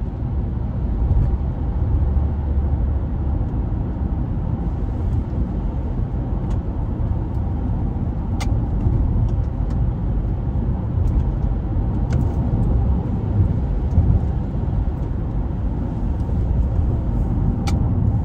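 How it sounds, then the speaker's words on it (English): A car's engine and road noise drone steadily from inside the cabin as it overtakes slower traffic, a continuous low rumble with faint clicks. "let me just overtake this motherfucker, because people be going mad slow"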